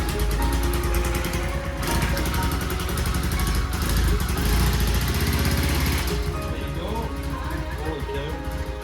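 An old motorcycle engine runs loudly and steadily up close, a continuous rough mechanical drone with a dense harmonic buzz; voices talk over it throughout.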